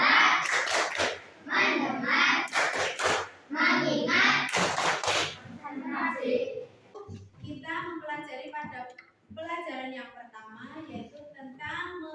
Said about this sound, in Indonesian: coba sekarang kita tepuk konsentrasi